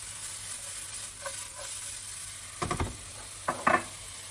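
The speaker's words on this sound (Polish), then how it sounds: "ja daję oliwę i wyrzucam teraz cebulę. Cebulę musimy zeszklić." Onion tossed into hot olive oil in a pan for a Polish potato bake, sizzling steadily at a low level with a few louder bursts of stirring and crackle near the end.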